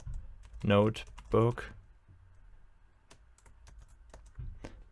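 Someone types a command on a computer keyboard into a Linux terminal, producing a handful of light, close key clicks after a spoken word, with a few more scattered taps toward the end.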